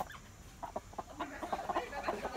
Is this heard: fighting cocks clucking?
yes